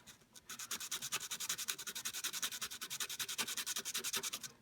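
A tiny wooden guitar part is shaved down by hand, a quick, even run of soft rasping strokes repeating rhythmically, close and fairly quiet.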